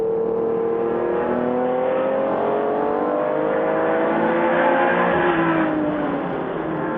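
Vintage race cars at the Rolex Reunion, including a 1974 Porsche 911 RSR, lap through traffic on the track, their engines a continuous loud roar with overlapping pitches rising and falling as cars pass.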